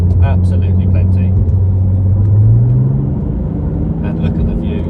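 Audi TT with a V6 engine, 250 horsepower, cruising on a road at about 60, a steady low engine drone with a slowly rising pitch under road rumble, with faint talking.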